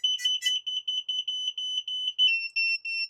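A loud, high-pitched electronic buzzer on a 7-inch long-range FPV drone beeps in rapid, regular short pulses, close by, with the tone shifting slightly near the end.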